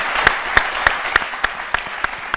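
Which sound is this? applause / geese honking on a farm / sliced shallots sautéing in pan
applause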